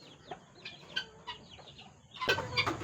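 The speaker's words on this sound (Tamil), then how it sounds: "அது கிண்ணி கோழின்னு பேரு." Guinea fowl call on a farm with goat and chicken pens, a series of harsh, clucking cries that start faint and grow louder and busier toward the end, with no talk.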